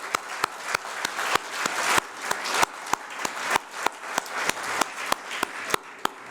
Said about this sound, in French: c'est une bonne main d'applaudir toutes les coopératives dans la salle